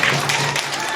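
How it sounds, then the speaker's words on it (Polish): A short burst of dense clapping from a group of schoolchildren, steady and fairly loud. "Ale brawa dla Kasi, brawa dla Kasi"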